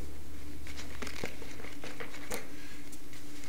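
A paper folder of papers handled close up, with crinkling, rustling and irregular crisp paper taps over a steady low hum.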